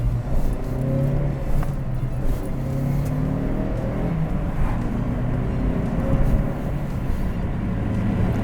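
Turbocharged Opel Astra being driven as it is prepared for winter games, with a steady engine drone and road rumble that stay constant and fairly close throughout, with no talking.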